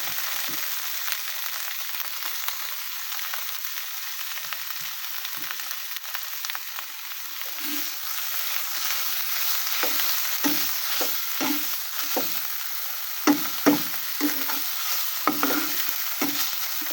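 Leaves hit a hot pan of frying bottle gourd peel, and a steady sizzle runs throughout with intermittent scraping stir strokes growing busier toward the end.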